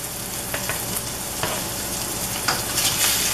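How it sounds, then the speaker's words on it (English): Burger patties sear in a hot oiled pan, giving a steady close sizzle and crackle with a few sharper spatters and light scraping, no voices. "so we're gonna sear them on both sides"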